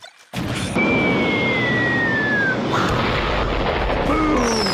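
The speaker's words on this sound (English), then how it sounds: "Explosions!" A loud explosion bursts in abruptly and roars on as a dense, sustained rumble, with thin whistling tones drifting over it.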